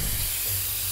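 Spray-paint graffiti in the video game Infamous Second Son: a steady, loud aerosol hiss that runs without a break for about a second.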